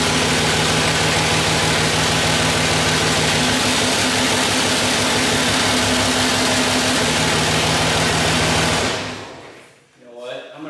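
Cummins diesel engine in a truck idling loudly and steadily up close with a low rumble, then cutting off abruptly near the end as the truck is put in gear.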